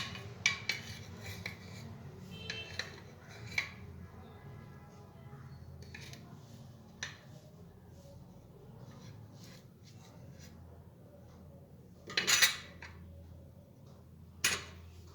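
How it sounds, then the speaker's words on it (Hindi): Spoon scraping and clinking against a bowl while garlic is mixed into a vinegar fish marinade, faint intermittent taps and rubbing with a few sharper clinks, close by and quiet. "लहसुन को हम इसमें मिक्स करेंगे अच्छी तरह से।"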